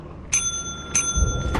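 Two clear bell rings in the video game Lethal Company, bright and sustained with sharp strikes about half a second apart, a third starting at the end over low rumble.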